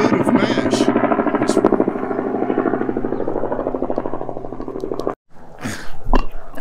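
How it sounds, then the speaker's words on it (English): A steady rotor drone of a helicopter flying overhead in the Smoky Mountains runs under continuous talking, then cuts out briefly before returning loudly. "These helicopters are really making it challenging today."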